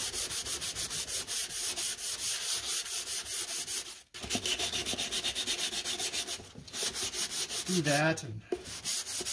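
A guitar body is sanded by hand in steady, rhythmic back-and-forth strokes, close and continuous with a couple of short pauses; a voice speaks briefly near the end.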